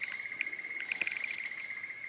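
Dense, continuous cricket chirping at night at a campsite in an Australian state forest, steady high pitch, with slight pulsing and faint louder chirps nearby, no voices.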